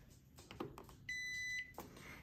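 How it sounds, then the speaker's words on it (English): Bread machine sounding its cycle-done beep, a single sustained electronic tone of about half a second, heard up close amid faint kitchen clatter and handling noise. "there's the, I'm done, I'm done beep"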